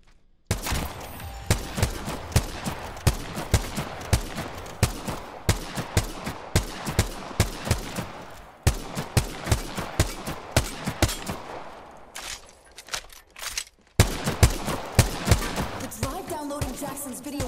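Rapid bursts of gunfire from a Bangalore weapon in Apex Legends Season 12, loud and close, with dense repeated shots through most of the stretch, a brief lull near the end and a final flurry.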